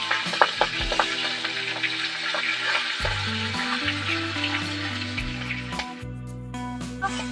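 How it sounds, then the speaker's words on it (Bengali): Hilsa fish paturi wrapped in cabbage leaves frying in a pan, a steady sizzle with occasional pops, accompanied by background music. "এই দেখো এইভাবে বাকিগুলো আমি সেম ভেজে নেবো।"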